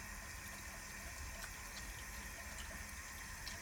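Clinical hand wash with soap under running water, heard as a faint, continuous hiss of flowing water with small splashy flickers from the hands, steady for a few seconds with no speech.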